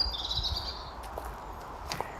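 Several birds chirp and sing at a distance, with short high calls scattered over a steady low rumble of wind.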